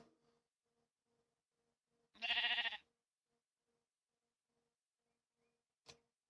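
A single sheep bleat from Minecraft, one short harmonic burst standing out near the listener against near silence, followed later by a brief click.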